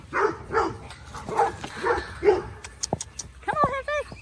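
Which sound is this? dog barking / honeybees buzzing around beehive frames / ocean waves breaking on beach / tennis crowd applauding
dog barking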